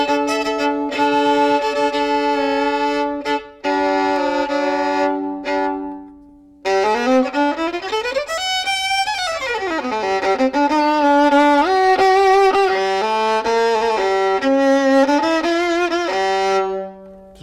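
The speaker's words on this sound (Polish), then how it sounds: "Brzmią jak skrzypce. Jak normalne skrzypce." A violin strung with 14-karat gold wires played solo, clear sustained bowed notes and sweeping slides up and down, loud and close, with a couple of brief pauses.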